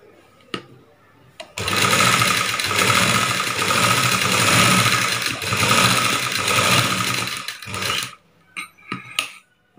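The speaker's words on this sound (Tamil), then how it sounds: "இப்போ நம்ம இந்த பா கழுத்தில் அதுக்கு மேலே இன்னொரு தையலை நம்ம போட்டுட்டு வரலாம்." A sewing machine stitches a second seam along the neckline of a tailored garment, a close, loud mechanical whir running steadily for several seconds before stopping, with short taps and handling sounds on either side.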